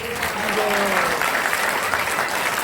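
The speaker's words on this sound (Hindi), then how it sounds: "जोरदार तालियों से" Audience applause in an ISKCON temple auditorium after a three-day religious discourse, a dense continuous wash of clapping with faint voices and a brief tonal sound mixed in.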